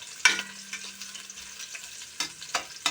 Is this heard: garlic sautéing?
yes